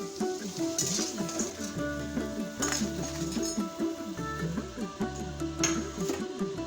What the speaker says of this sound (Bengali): আমি এখন এগুলোকে নামিয়ে নেব। এই প্লেটে নামিয়ে নিচ্ছি।